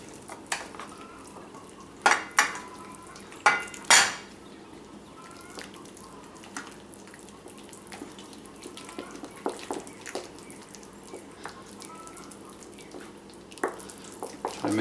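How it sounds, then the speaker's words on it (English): Breadfruit pancake batter being mixed with a pinch of salt in a bowl, with several loud clinks and knocks of a utensil against the bowl early on, then quieter scraping and stirring with small taps. "We're gonna mix this up."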